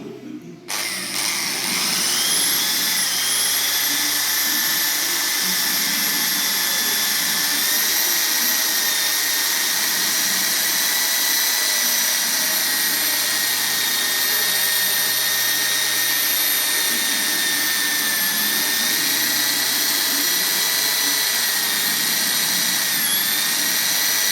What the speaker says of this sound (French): il faut que je refasse les trous de perçage.